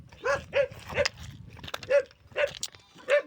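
A goat bleating on a hillside, a series of about seven short wavering cries in an uneven rhythm, fairly close and clear, with no talk over them.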